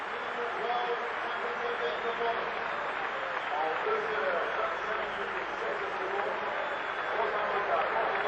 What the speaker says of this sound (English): the celebration and the applause, quite deservedly, for Rosa Motta.